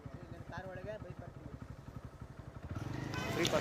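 A motorcycle engine rumbles and rises as it passes nearby on a road at Mekedatu and Sangama, its throttle building toward the end while people talk over it.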